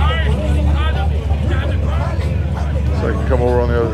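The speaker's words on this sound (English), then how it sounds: "exhaust noise is drowning out the music." Loud, steady low engine rumble from a classic car at a swap meet and car show, such as a 1963 Nova, running continuously in the foreground with people talking nearby and outdoor crowd hubbub.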